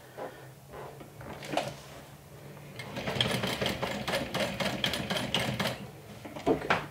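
A sewing machine back stitching a bag, a close, rapid mechanical whirr of needle strokes that starts after a few quiet handling knocks and runs steadily with a brief pause near the end.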